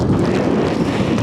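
Strong gusting wind on an exposed fell, a loud, close roaring rush buffeting the microphone steadily with no voices.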